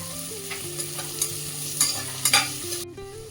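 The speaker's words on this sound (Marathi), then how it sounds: "लसूण आल्याची पेस्ट आहे ती टाकून घेऊया आणि ती याच्यामध्ये परतून घेऊया" Garlic-ginger paste is stirred with onion in a pan, giving a soft sizzle and scraping spatula strokes that swell near the end, with steady background music underneath.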